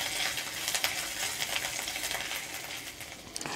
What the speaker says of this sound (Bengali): এবার সুন্দর করে একটু ভেজে নেব সব কিছু